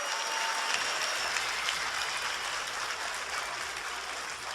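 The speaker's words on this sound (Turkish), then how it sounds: "Bizi de bir alkışlayalım." Sustained applause from the audience at a League of Legends cosplay contest during a 2014 winter final event, a dense steady clatter of many hands that stays loud throughout with no talk over it.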